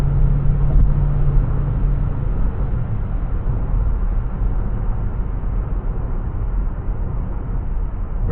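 A 2025 MG HS PHEV SUV on winter tires accelerates on a highway at night, slightly uphill, heard from inside the cabin as a steady, muffled road rumble and low drone.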